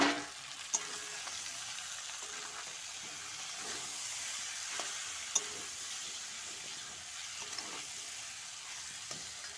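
Chicken in a red masala gravy sizzles and sputters in a pan as it is sautéed down, a soft, steady frying hiss with occasional light pops and stirs.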